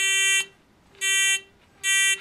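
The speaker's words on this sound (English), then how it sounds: "giving the buzzers to an entire classroom of students because they are quite loud" A Squishy Circuits electronic buzzer blares in three loud, steady bursts, each about a third of a second long, separated by short silent gaps.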